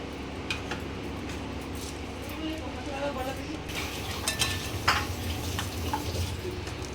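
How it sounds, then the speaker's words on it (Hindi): Whole garam masala and a bay leaf sautéing in hot oil in a pan, a soft sizzle with light clinks of a utensil against the pan, close and fairly quiet. "मैं पूरे गरम मसाले डाली हूँ और ये पत्ता भी डाली हूँ, तो सौटे करेंगे"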